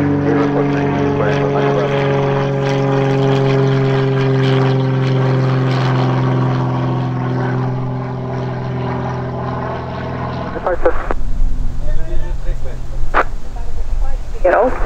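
Propeller aircraft engine droning loudly and steadily during takeoff at Eelde Airport, with a strong tonal hum that gives way to rougher, gusty roaring near the end as the plane powers up, with voices heard over it.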